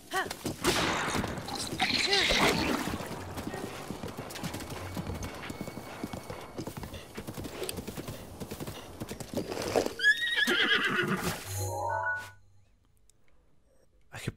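A horse whinnies over steady, rhythmic clip-clop of hooves in Breath of the Wild, with game sounds and faint voices, ending in a brief whinny after the hoofbeats stop.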